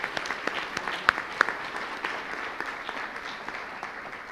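Audience at the closing of the Belgrade Security Forum 2013 claps for the media team, a moderately loud burst of scattered, individually distinct handclaps with a few sharper close claps, sustained throughout.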